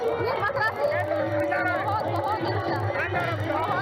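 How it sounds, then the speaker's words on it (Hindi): Dense crowd chatter and babble at a Holi festival at Krishna Janmabhoomi in Mathura, a steady mass of many overlapping voices close around, with no single sound standing out. "कैसी भीड़ है यहाँ?"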